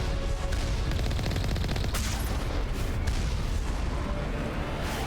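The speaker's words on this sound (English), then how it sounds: "See those rockets." Rocket fire and dense weapon blasts in Mass Effect 1 on a combat route with turrets, a continuous loud barrage of booms and bursts with a few sharper flares, no voices over it.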